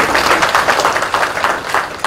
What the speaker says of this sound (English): a big round of applause for Naseeruddin Shah